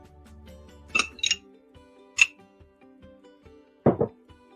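A spoon clinks against dishes during a biscuit-and-jelly meal, giving a few sharp, bright taps in quick pairs spread out over several seconds against a quiet kitchen background.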